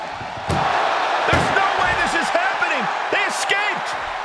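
An ambulance door slams shut in a wrestling video game ambulance match, a sharp bang near the start followed by crowd noise and thuds, with a commentator talking over it.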